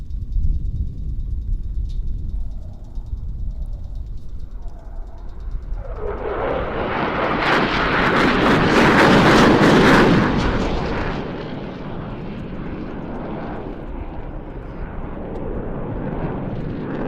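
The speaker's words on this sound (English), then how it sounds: "Now the aircraft roll out on the B-axis towards us for the climax of badge formation." A formation of aircraft at an airshow in Leszno approaches and passes overhead, the roar swelling loudly over several seconds, peaking, then fading to a steady distant rumble.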